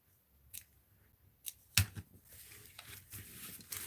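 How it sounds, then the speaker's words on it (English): Scissors trimming the paper spine of an art journal, a few faint, quick snips with soft paper rustle in a quiet room. "Let's trim this a little."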